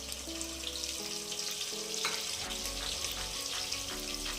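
Cut onions fry in a pan for mutton biryani, a steady close sizzle running throughout with faint tonal background music beneath and no speech.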